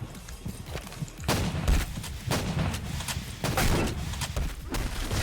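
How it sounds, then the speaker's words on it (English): Repeated shotgun blasts from the Demolisher shotgun in the video game InfecDOOM, several loud booming shots at an irregular pace over a dense, noisy game soundscape. "This Demolisher shotgun is very interesting because you can basically just wreck anybody's low enemy."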